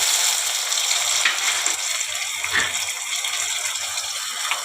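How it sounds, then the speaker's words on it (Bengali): Tomato puree goes into a hot pan of oil, setting off a loud, steady sizzle and frying hiss that holds for several seconds with no voices over it. "এবারে আমি টমেটো পিউরিটা দিয়ে দিচ্ছি 2 চামচ"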